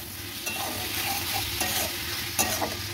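Onion and capsicum with vinegar are stirred in a frying pan for chilli soybean, a steady close sizzle broken by a few soft scraping strokes of the spoon, with no talking.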